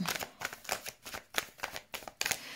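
Tarot cards being shuffled for a draw, a close series of quick papery riffles and slaps in an uneven rhythm, roughly eight bursts with short gaps between.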